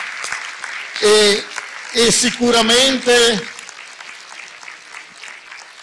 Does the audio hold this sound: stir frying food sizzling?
no